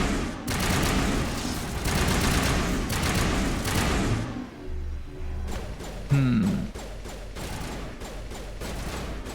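Sustained, dense gunfire from the video game Mass Effect, a rattling fusillade that breaks off midway and then returns as scattered, sharper individual shots.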